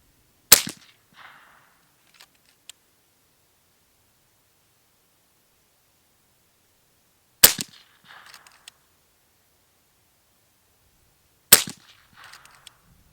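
Three sharp, loud shots from an FX DRS Tactical .25 calibre air rifle, widely spaced, each a crisp crack followed by brief faint clicks and rattles, with silence between.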